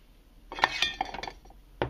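Small metal camping pots, including a 10-centimetre bacon pot, clink and knock together in a short close-up burst of bright metallic clatter, ending in one final sharper clink.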